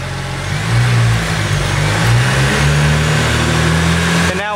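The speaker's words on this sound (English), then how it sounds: "this blow-off valve is actually discharging air because the turbo is efficient enough that at idle, it's blowing air out just like a supercharger would" A car's turbocharger blow-off valve vents air while the engine idles, a broad steady hiss over the close, low rumble of the running engine, with no speech.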